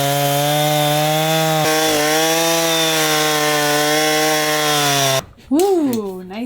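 Chainsaw fitted with a brand-new chain cutting up a fallen tree for firewood, engine droning loud and steady at high revs, briefly dipping once, then dropping off and revving again near the end.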